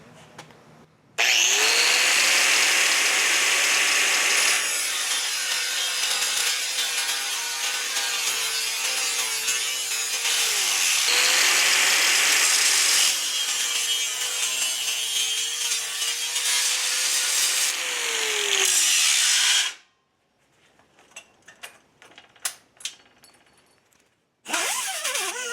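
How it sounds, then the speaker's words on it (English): A diamond wheel grinds through metal while a fender is mounted on a Triumph Scrambler motorcycle, in loud sustained close-up cuts with pitch sweeps as the load changes, then a short pause with clanks before it starts again. "I'm using this diamond wheel to cut this."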